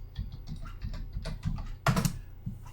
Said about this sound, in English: I'm going to go hit my Control F, which is find, and I'm going to type in keywords.